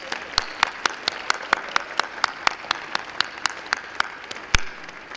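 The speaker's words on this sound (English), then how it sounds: "Let's give her a big round of applause." Luncheon audience at an MLK event in Peoria applauds Alma Brown, a thin spread of claps with individual hand strikes standing out in a regular rhythm, moderately loud and without talk.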